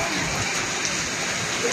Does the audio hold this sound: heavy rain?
yes